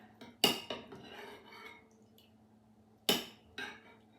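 Dishes clink as shrimp soup with kale and mushrooms is served, with two sharp close metallic knocks of a utensil against a pot or bowl and softer scraping between them.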